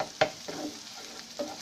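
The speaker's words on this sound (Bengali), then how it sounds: "এটা খুব ভালোভাবে নাড়তে হবে যেন এটা মিশে যায়" Boiled noodles stirred in a frying pan, a utensil scraping in a few distinct strokes over a low, steady sizzle, close and fairly quiet with no voices.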